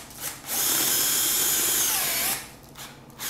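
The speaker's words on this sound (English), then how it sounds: "I'm going to show y'all me drilling the holes" A power drill whines steadily for about two seconds, boring holes into a deer mineral block, close and loud, then spins down, with faint handling noises before and after.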